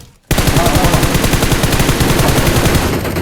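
Rapid automatic gunfire from a video game rattles continuously, loud and close, in a steady burst lasting several seconds after a brief quiet start.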